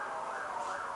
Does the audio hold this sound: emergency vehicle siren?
yes